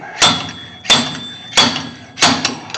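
Four evenly spaced, sharp metallic knocks from a slide hammer driving a bearing race out of a 1979 Chevy C10 short-bed differential during a gear and locker swap, close and loud with no talk.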